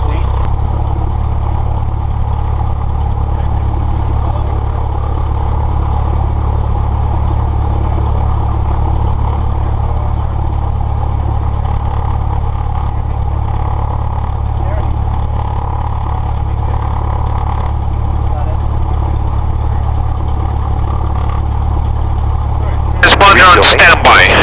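A training aircraft's engine idles steadily at about 1000 RPM as a loud, continuous low drone through the whole stretch, with a brief burst of other noise at the very end.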